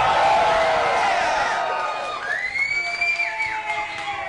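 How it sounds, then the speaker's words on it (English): A live studio audience at a radio show broadcast from Chicago cheers and whoops loudly, a dense crowd roar with shrill voices that eases slightly partway through, then continues as scattered shouts. "now you're allowed to cheer as much as you want"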